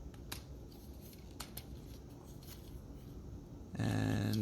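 Plastic tabs on a Transformers Combaticon Brawl figure click into place, giving sharp small snaps scattered over a quiet handling rustle, with a sudden hum at the end.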